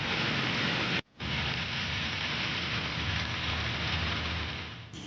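Heavy monsoon downpour in Patna, a dense, steady roar of rain hitting streets and surfaces, loud and continuous with one brief cut near the start.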